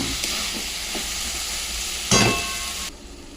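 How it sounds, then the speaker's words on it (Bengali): Boiled banana flower and chickpeas being mashed and stirred together in a pan, with a continuous hissing sizzle and a brief louder scrape of a spoon near the end before it quietens. "এবার ভালো করে হেলে মিশিয়ে এটাকে নরম করে একদম মাখা মাখা করে ফেলতে হবে।"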